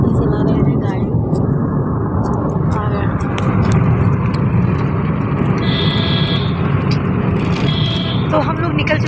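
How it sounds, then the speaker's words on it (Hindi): Car driven on a family road trip in India, its steady engine and road rumble continuous and loud throughout, with people talking over it and a brief electronic beeping tone partway through. "हमारे देवर जी चला रहे हैं गाड़ी"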